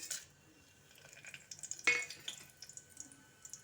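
Whole spices (bay leaf, cinnamon, cloves, cardamom, a little cumin and pepper) fry in hot ghee for peas pulao, giving a faint, soft crackle with scattered light clinks and stirring sounds in a quiet kitchen.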